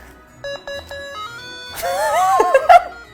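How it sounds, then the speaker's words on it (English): A handheld brick game console from the 1980s gives a few short electronic beeps, then a rising and warbling run of tones, with faint voices around it. "This is the brick game."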